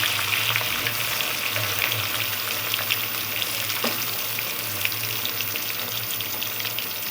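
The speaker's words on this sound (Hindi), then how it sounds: "हमारा ऑयल गर्म हो चुका है। तो अब हम इसमें बैंगन डालते हैं।" Halved eggplant pieces sizzle steadily in hot oil, a dense, even crackle and hiss that holds at a constant level throughout, with no talking.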